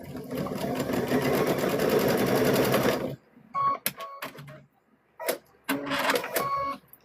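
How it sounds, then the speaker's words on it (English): A sewing machine runs steadily for about three seconds, stitching straight across the top of a stuffed bear's arm, then stops; short clicks and handling noises follow in the quiet. "Just turn it inside out and just sew right across the top of it"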